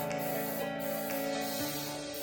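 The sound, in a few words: baking spray sprayed into cake pan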